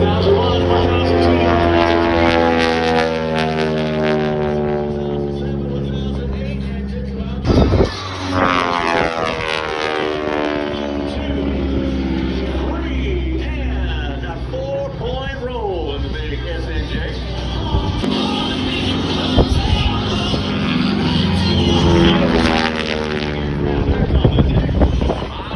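Propeller engines of aerobatic airplanes, including a T6, droning and shifting in pitch through air show stunts like inverted dives and barrel rolls, with wind buffeting and an announcer talking over the whole passage.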